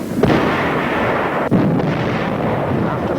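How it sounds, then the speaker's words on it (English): Artillery fire in a battle at San Pietro in 1945: two heavy booms, one near the start and another about a second later, rise over a dense, continuous roar of distant shelling. "Our own artillery was brought to fall within 100 yards of our front-line elements."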